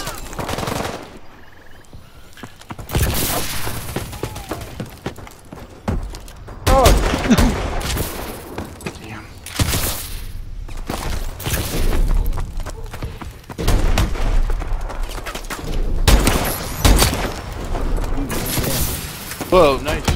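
Rapid automatic gunfire and single shots from Call of Duty: Advanced Warfare in a hardcore Kill Confirmed match crackle in bursts with booms, while players talk over the action.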